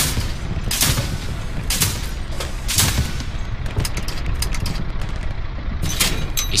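Dense gunfire crackles through a Hell Let Loose battle, with repeated loud shots and bursts layered over a constant rumbling din of combat noise, no voices standing out.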